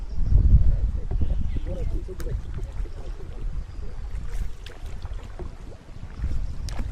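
A rowing boat moves across a lake beside a rural resort, giving a steady low rumble with soft water wash and light wind noise, and some murmured voices underneath.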